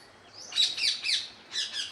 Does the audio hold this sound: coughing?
no